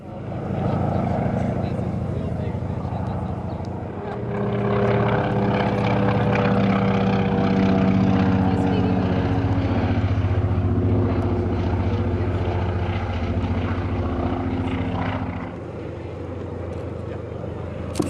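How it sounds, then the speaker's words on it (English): A Grumman Duck seaplane flies, lands and takes off at a seaplane fly-in, its loud propeller engine droning steadily and swelling toward the middle before easing off, with talk faintly underneath. "How often do you get to see a Grumman duck flying, landing, and taking off?"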